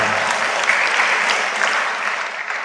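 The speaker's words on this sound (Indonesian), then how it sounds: "Tepuk tangan untuk panjenengan semuanya." Dense applause from a large crowd fills a graduation ceremony hall, loud and continuous, with many hands clapping at once and no clear voices over it.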